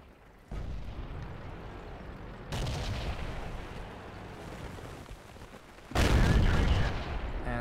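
Heavy KV-3 tank cannon shots in World of Tanks, with booming blasts at roughly 0.5, 2.5 and 6 seconds over continuous battle rumble.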